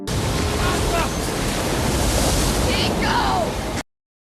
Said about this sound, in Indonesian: badai yang melanda benar-benar dahsyat sehingga membuat Hiko terbawa ombak.